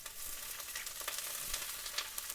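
Bok choy sizzles as it is stir-fried in a hot, smoking pan, a steady close hiss of frying with small pops and crackles of moisture throughout.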